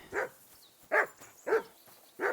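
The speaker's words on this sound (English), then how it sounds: "Okay, there's a doggy." A dog barks in the medieval game Kingdom Come: Deliverance 2, giving four short, evenly spaced barks at moderate distance with quiet gaps between them.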